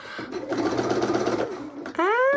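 A sewing machine runs a quick, rapid-fire burst of stitches along a raw-edge fabric wallet seam, close and steady for about a second and a half before stopping abruptly, and then a voice begins speaking.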